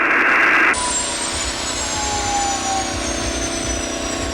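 Jet engines of a TWA airliner (Flight 847) roar and whine steadily, a loud sustained high-pitched hum over a deep rumble, with a brief change in pitch near the start.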